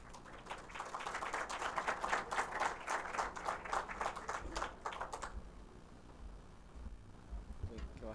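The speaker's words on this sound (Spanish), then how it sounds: "lo recibimos con un fuerte aplauso" Audience applause for a speaker arriving to present on electric mobility solutions, a dense patter of clapping from a seated crowd that carries for about five seconds and then cuts off, leaving quiet room noise and faint movement.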